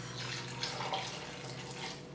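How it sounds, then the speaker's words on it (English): Vegetable broth is poured into a cooking pot, a soft continuous liquid gurgle and splash over a low steady kitchen hum, quiet and close, with no talking. "Then we're gonna add a couple cups of veggie broth."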